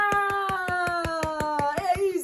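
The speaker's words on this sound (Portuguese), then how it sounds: "Palmas para a história!" Steady, evenly spaced hand claps, about a dozen in a row, at a children's Halloween storytelling session, over a sustained sung or musical tone.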